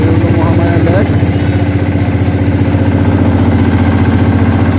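Speedboat engine running on Mahamaya Lake in Bangladesh, a loud, close, steady mechanical drone with a fast pulsing beat throughout, with brief voices faintly under it.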